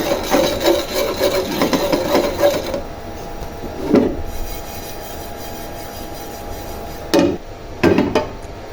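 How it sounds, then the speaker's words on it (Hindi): Poppy seeds roasting in a pan on a switched-off stove are stirred with a spoon, producing dense scraping and rustling for a few seconds, then quieter gaps broken by a few short, sharp scrapes. "सबसे आखिर में मैं खसकाश को भून रही"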